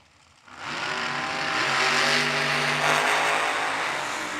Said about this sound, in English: The supercharged dragster dials in 441.